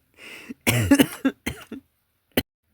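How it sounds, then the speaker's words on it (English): A woman in a home kitchen has a coughing fit, a rough burst of several close, harsh coughs in quick succession, then a pause and one last single cough, with no speech. "I'm sorry about my coughing fit."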